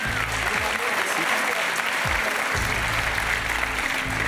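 A French television audience at the Moulin Rouge applauds loudly and steadily, a dense wash of clapping that fills the whole stretch without a break.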